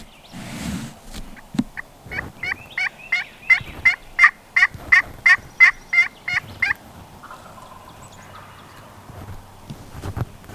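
About four wild turkey gobblers gobble in a rapid series of loud, repeated calls on a South Carolina spring hunt, moderately distant, followed by quieter background rumble and a few scattered knocks.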